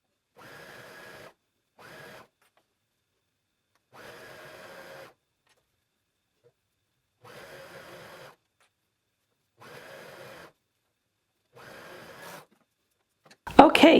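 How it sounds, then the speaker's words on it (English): A home sewing machine runs a zigzag or stretch stitch in short, evenly spaced bursts of whirring separated by pauses, ending with a louder clatter. "let's head over to our sewing machine"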